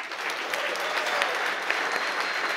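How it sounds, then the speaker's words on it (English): Conference audience applause for the crew at an Angular developer event: a large crowd clapping steadily in a big hall, dense and even, heard from a slight distance with no talk. "Can we just give them a round of applause?"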